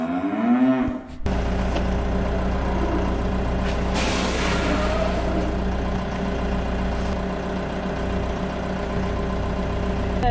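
Cattle, fattening stock, weaned heifers and cows, moo inside a farm barn over a constant loud engine drone, with a brief hiss like an air brake at the start.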